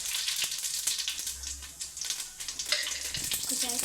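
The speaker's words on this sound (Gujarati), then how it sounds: "તો એટલું એક ચમચી જીરું નાખી દેવાનું છે" Cumin seeds crackle in hot oil in a pan while cooking batata poha, a close, steady sizzle with scattered small pops throughout.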